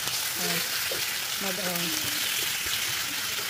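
Meat fries in hot oil with a dense, continuous sizzle and crackle, while a voice talks briefly over it.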